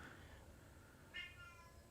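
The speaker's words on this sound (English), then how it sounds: "the cat's not happy" A cat lets out one brief, unhappy meow at a distance, faint over a low steady background hum, with no one speaking.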